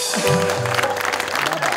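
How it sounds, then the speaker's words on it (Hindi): An audience applauds after a song at a talk show taping, brief clapping that sits under some voices and tonal sound over a short stretch. "तालियां!"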